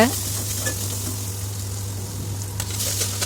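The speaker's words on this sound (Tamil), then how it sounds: "கடுகு பொரிஞ்சதும் வெங்காயத்தை சேர்த்து நல்லா வதக்குங்க வெங்காயம் வதங்கினதும் கறிவேப்பிலையும் போட்டு நல்லா வதக்குங்க" Onions and curry leaves sizzle steadily in hot oil in a pan after mustard seeds have popped, for a Tamil fish gravy; a constant close frying hiss with a few faint stirring scrapes.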